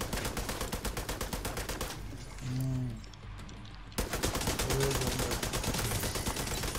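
Rapid automatic gunfire in The Division 2 rattles in dense, steady bursts, pauses briefly while someone speaks, then resumes loud and close.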